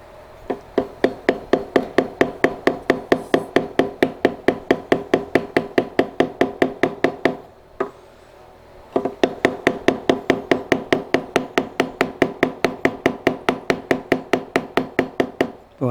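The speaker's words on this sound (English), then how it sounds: "Okay, I'll use my small mallet." A small mallet taps a wooden drawer in an even, rapid rhythm of crisp knocks, close and fairly loud. There is a brief pause midway before the steady tapping resumes.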